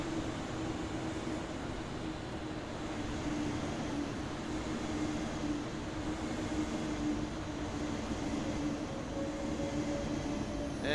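An ICE 1 high-speed train runs along the line in Train Sim World 6, a steady low rumble with a droning hum and a faint rising whine near the end, heard continuously with no talking.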